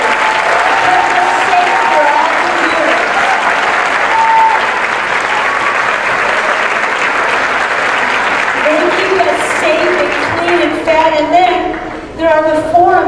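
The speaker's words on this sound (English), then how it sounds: "Can we have a round of applause for the people who kept us safe" At a school graduation, a crowd applauds the security and maintenance staff with loud, sustained clapping throughout. Voices rise over the clapping near the end.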